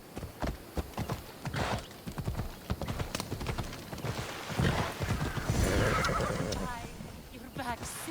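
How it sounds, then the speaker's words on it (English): Horse hooves clip-clopping at a gallop with loud neighs and whinnies in the Assassin's Creed Odyssey video game, steady hoofbeats throughout and whinnies rising near the end, with game dialogue voices over them. "I'll get back Megacles' stallion"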